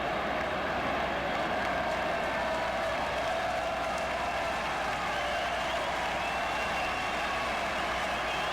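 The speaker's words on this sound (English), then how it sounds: "applause for the fan who was hit on his feet, smiling" Baseball stadium crowd applauding steadily at a Nationals–Cubs game, a dense, even wash of clapping and murmur that holds at one level throughout with no voices standing out.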